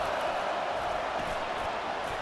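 Steady, broad roar of a packed stadium crowd at a college football game, sustained and fairly loud throughout with no distinct cheers or breaks, and faint voices blended into the wash.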